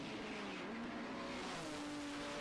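Super Touring race cars at the Knockhill circuit give a continuous loud engine roar, with shifting engine pitch as the cars race past, and no voices.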